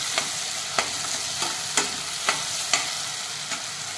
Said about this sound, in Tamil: நம்ம வெங்காயம், தக்காளி வதங்கி வந்துடுச்சு